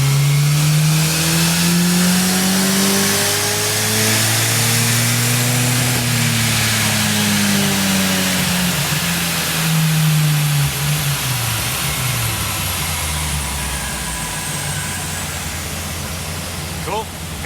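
Turbocharged engine revving steadily under load as boost builds, with a wastegate-controlled turbo and manifold setup; a loud, sustained drone with a rising and falling pitch, close by and continuous throughout.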